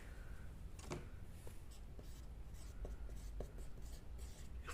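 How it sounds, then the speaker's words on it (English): Marker scratching on a whiteboard in a workshop, faint squeaky strokes and taps in short irregular bursts over low background hum. "that'll need to be written on the board, which I'll do now"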